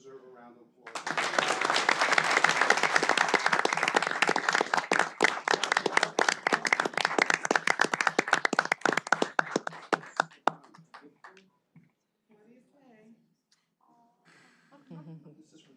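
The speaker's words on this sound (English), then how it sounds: "They deserve a round of applause." An audience at a township mayor and council meeting breaks into loud, sustained applause for about ten seconds. It then thins to scattered claps and taps, and a little quiet talk follows at the end.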